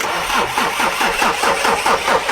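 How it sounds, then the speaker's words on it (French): A car engine cranking and catching, running with a rough, pulsing rhythm as it starts cold, loud and close. "C'est normal aussi le bruit que le moteur fait?"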